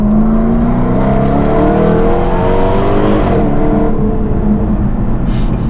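An SVR supercar accelerates hard on the road, its engine note climbing in a loud, continuous rising whine and roar, then easing slightly near the end.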